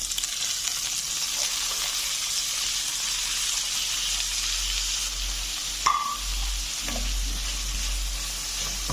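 Browned chicken fries with chopped capsicum and carrot in a pan, producing a loud continuous sizzle and hiss with a few stirring clatters close by.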